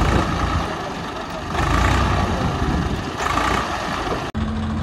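A heavy tractor engine, stuck in the ground, rumbles steadily at close range, swelling louder for a stretch midway before settling back, then a brief cutout near the end.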